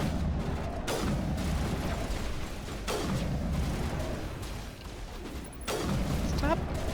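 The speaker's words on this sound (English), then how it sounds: "This feels very weird shooting, oops, short range with a sniper rifle." Sniper rifle shots ring out in Mass Effect 1 at close range, three heavy booming reports spaced a couple of seconds apart over a dense game backdrop.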